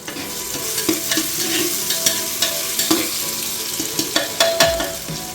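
Ginger garlic paste fries with spices in a hot pan, a continuous sizzle broken by repeated scraping stirs of a spoon against the pan, close and fairly loud with no talking.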